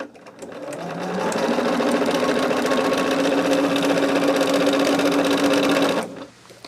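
A sewing machine stitches fabric on a home sewing table in one steady, loud, continuous run of about five seconds, starting up and stopping abruptly, with no talking.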